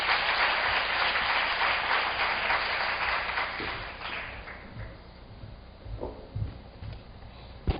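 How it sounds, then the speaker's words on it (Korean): Applause from an audience at a Korea–Latin America internship information session, loud and dense at first, then thinning out to scattered claps that fade over several seconds. "모두 큰 박수로 맞아주시기 바랍니다."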